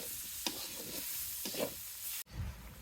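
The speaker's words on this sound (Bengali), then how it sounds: "এগুলো দিয়ে ভালোভাবে কষিয়ে নিবে।" Dried fish and eggplant fry quietly with turmeric, chilli and coriander powder, giving a soft, even sizzle broken by a few scraping stirs of a spoon against the pan.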